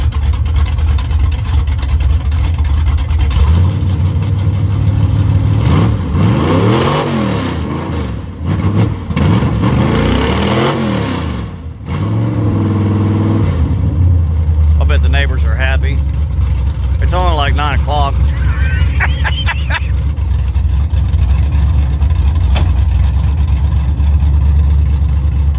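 Engine of a square body pickup truck revving, with several loud rising and falling revs in the middle over a steady idle, and someone talking nearby afterward.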